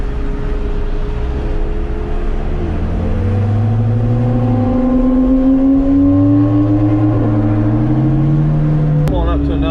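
Supercars including a Corvette C7R and a Porsche 911 Turbo driving on a rally, a steady loud engine drone with rising and falling revs heard from inside a car, with people talking over it.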